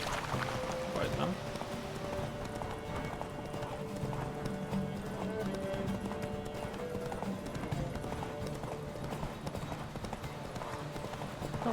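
Galloping horses racing in the video game The Witcher 3 give a constant rapid hoof clatter, loud and close, mixed with game music throughout.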